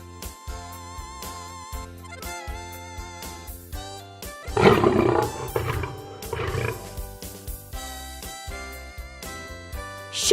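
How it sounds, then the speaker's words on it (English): A lion lets out one loud, rough roar in the middle, rising out of and then fading back into ongoing background music. "Lion."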